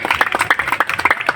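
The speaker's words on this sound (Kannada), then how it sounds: "ಒಂದು ಉತ್ಸಾಹಕ್ಕೆ ಎಲ್ಲರೂ ಚಪ್ಪಾಳೆ ತಟ್ಟಬೇಕು" A group of people clapping at a rangoli competition held for a village goddess festival, brisk uneven handclaps, close and lively over a short burst.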